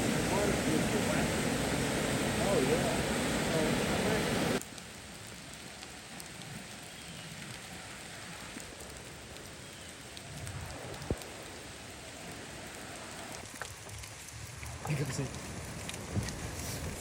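Rain falls near a waterfall at Rocky Falls in autumn, a steady hiss of drops and rushing water throughout, louder at first, then softer with a voice speaking briefly.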